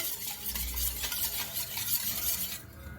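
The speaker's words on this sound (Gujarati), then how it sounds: "આ રીતે આપણે પાંચ મિનિટ સુધી હલાવવાનું છે" Khaman dhokla batter being stirred continuously in a bowl, a steady close scraping and swishing that stays even for a few seconds without talk.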